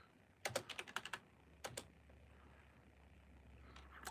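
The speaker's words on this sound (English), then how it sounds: "Let me make sure I type that right" A quick, close burst of computer keyboard keystrokes and then a few more taps, all against a quiet background.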